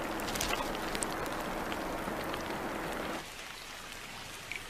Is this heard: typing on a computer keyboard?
no